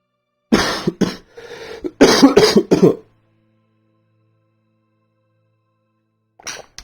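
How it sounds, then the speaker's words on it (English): Several sharp coughs in two quick bursts, close and loud, followed by silence and one more faint cough at the end. "Cough, cough, cough, cough."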